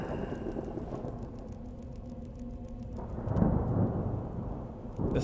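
Thunder rumbles with steady rain in the candle horror game Wick, a soft continuous downpour joined by a louder rolling swell of thunder near the end, with no talking.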